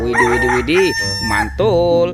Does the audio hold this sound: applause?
no